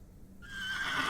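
A horse in a video game lets out a rising whinny that starts partway through and climbs in loudness over a steady background.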